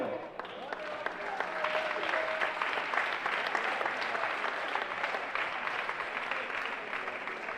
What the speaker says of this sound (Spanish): después de este aplauso